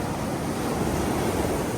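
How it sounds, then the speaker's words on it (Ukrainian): Sea waves at a beach in Odesa at the end of the velvet season: a steady, dense wash of surf and wind noise throughout, with no talk. "нормальна висота тих хвиль"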